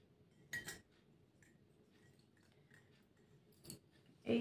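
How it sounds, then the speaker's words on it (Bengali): A small silver spoon clinks against a little silver bowl in a few faint, sparse taps, one early and a couple near the end, in a quiet room. "এটা চামচ।"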